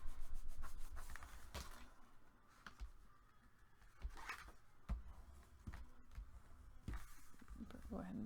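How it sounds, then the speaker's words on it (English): Paper is burnished down in a handmade heart-shaped mini album with soft, faint rubbing strokes repeated in short bursts, while a person talks over the quiet scraping. "Go ahead and burnish that."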